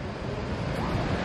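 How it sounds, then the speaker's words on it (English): Distant rushing water from the O'Shaughnessy hydroelectric dam, a steady broad roar like surf or wind, continuous and moderately faint. "you can hear the O'Shaughnessy Dam from over here"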